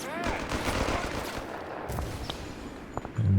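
Machine gun fire in Company of Heroes 3: a dense, continuous rattle of rapid shots held at moderate loudness, with a brief louder thump near the end.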